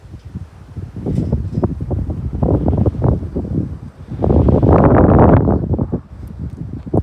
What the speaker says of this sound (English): Even today the wind's blowing a little bit hard